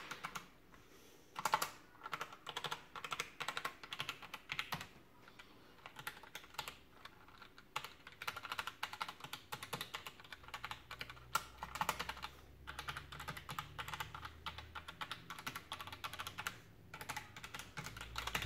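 Clacking keystrokes on a ROCCAT Vulcan 120 AIMO mechanical RGB gaming keyboard, irregular bursts of quick clicks with brief pauses, close and fairly quiet, no talking.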